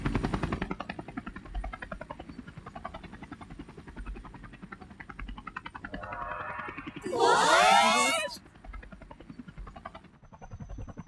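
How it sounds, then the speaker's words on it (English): Helicopter in the video game Persona 5 Royal: a steady rhythmic rotor chop runs throughout, briefly swamped by a bright whooshing burst in the middle, with no talk over it. "A helicopter."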